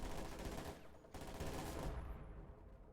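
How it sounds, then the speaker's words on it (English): A howitzer firing in Company of Heroes 2, heavy booming blasts over dense battlefield noise, with a brief gap before the rumble resumes and fades. "Howitzer is firing."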